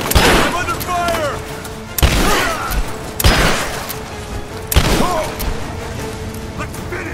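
Video game gunfire in Rise of the Tomb Raider during a firefight: loud sharp shots at irregular intervals, each followed by a ringing decay, with battle noise and voices underneath.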